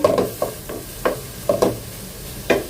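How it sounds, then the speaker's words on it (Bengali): Half a chicken breast fries briefly in a pan for a diet soup, with a series of distinct stirring scrapes about every half second over a soft sizzle. No voices are heard. "এখন হচ্ছে একটু ভাজবো আমি কিছুক্ষণ অল্প কিছুক্ষণ একটু ভাজবো"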